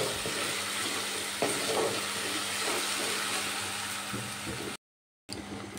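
Onion and tomato paste frying in a pan, a continuous even sizzle with occasional stirring scrapes, cutting out briefly to silence before the sizzle resumes.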